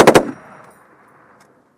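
Close gunfire in combat in Kunar, Afghanistan: a quick burst of two or three loud, sharp shots at the start that echo and decay across the terrain, followed by near silence and one more crack at the very end.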